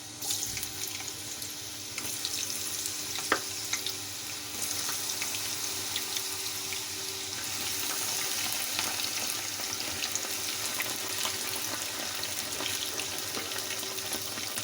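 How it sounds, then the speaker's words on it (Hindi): Cut potato fries deep-frying in hot oil, a steady dense hiss and crackle running throughout at a constant level, with a brief clink near the start. "ऑयल हमारा हो गया गर्म और कटिंग भी कर ली है मैंने सारी। अब हम कर लेते हैं फ्राई।"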